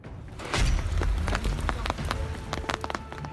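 Close, dense patter of heavy snowfall striking a surface like heavy rain in Himachal Pradesh, with irregular thumps and drips throughout and no talking.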